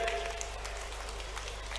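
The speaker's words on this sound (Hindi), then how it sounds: "मैं चाहता हूं हमारे मुख्यमंत्री जी का जोरदार तालियों से हम सब लोग अभिनंदन करें।" Crowd at a Balaghat political rally applauding Chief Minister Shivraj Singh Chouhan, a faint, distant wash of clapping over a low hum, brief and steady.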